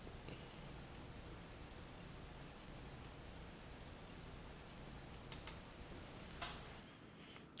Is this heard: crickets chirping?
yes